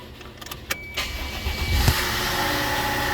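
A 1997 Toyota Tercel with a swapped engine cranks for a moment, then catches and settles into a steady, loud running drone close by.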